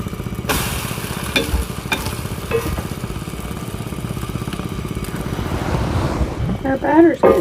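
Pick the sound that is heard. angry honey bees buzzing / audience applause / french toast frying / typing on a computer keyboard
french toast frying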